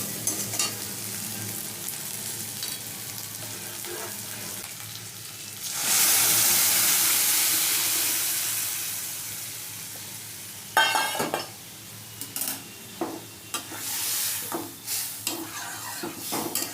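Lentil dal is poured over fried okra in a hot pan for homemade Bengali masoor dal. The liquid hits with a loud surge of sizzling, then steady frying hiss follows with spoon stirring and pan scrapes.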